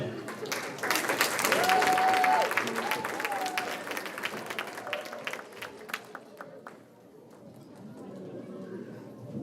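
Audience applause for students at an elementary school spring concert, a dense patter of many hands that builds to a peak early, then thins and fades, with crowd chatter and voices mixed in.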